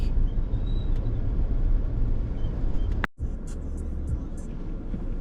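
A Maruti Suzuki Jimny moves through Delhi traffic near Haiderpur metro station, with a steady low road and engine rumble, a brief dropout midway, then continued traffic noise.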